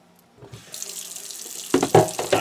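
A sink tap runs cold water as a tie-dyed shirt is rinsed beneath it, a steady close hissing stream with splashing and sloshing that grows heavier as the fabric is worked under the flow.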